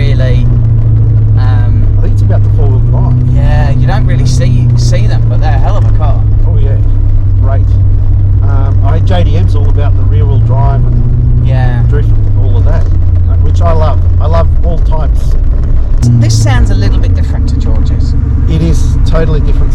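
Porsche 928 V8 with its rear muffler removed gives a steady deep low rumble at idle and light revs throughout, with engine pitch rising and falling, while people talk over it.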